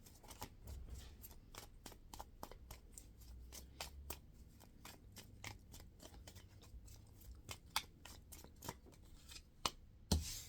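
Close, quiet rapid clicks and riffles of playing cards being shuffled, in repeated bursts with a few sharper snaps near the end.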